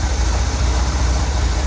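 A Vauxhall Corsa engine running at slightly raised revs, a steady low droning hum close by with no talking.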